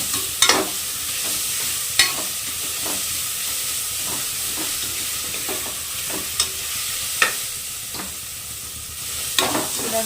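Ingredients for chilli chicken gravy fry in a pan with a steady loud sizzle, while a spoon scrapes and stirs through them in repeated knocks every second or two.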